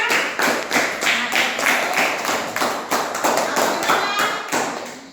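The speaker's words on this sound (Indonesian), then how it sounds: "tepuk tangan dulu untuk presentasi pertama" Students in a classroom clap for a first presentation, a close, loud, rhythmic group clapping in regular unison beats, roughly two per second, continuing throughout.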